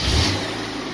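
A Mazda Miata engine with much of its wiring stripped out runs in a garage, a steady close mid-pitched rumble with a brief rev at the start and no talk.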